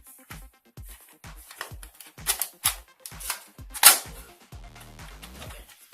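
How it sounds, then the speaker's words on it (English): Toy dot bullets are pressed one by one into the cartridge of an automatic-firing toy gun, making a steady run of small, close plastic clicks and snaps with a few louder sharp clacks and no talking. "Now we have to load all these dot bullets into this cartridge."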